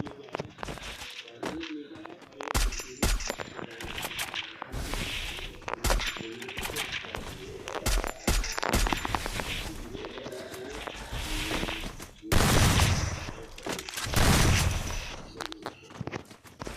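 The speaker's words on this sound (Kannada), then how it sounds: "ವಾಲ್ ಕ್ರ್ಯಾಕ್ ಆಗುತ್ತೆ ಗೈಸ್ ಈ ಗನ್ನಿಂದ." Rapid gunfire bursts from the mobile battle royale game Free Fire during a 1vs2 match, with sharp shots, metallic clangs and pings coming in irregular clusters at steady close loudness, with a heavier volley late on.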